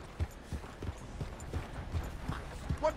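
A horse's hooves clip-clop at a steady walking pace in Red Dead Redemption 2, soft and fairly close, with a faint background ambience.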